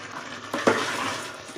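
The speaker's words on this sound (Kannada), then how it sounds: "ಇದನ್ನು ಒಂದು 5 ಸೆಕೆಂಡ್ ಈ ಥರ ಮಸಾಲ ಜೊತೆಗೆಲ್ಲ ಹಿಂಗೆ ತಿರುಗಿಸೋಣ" Rice and masala being stirred in a pot for tomato bath, with a soft scraping swish of the spoon against the pot over a low steady hiss, brief and close.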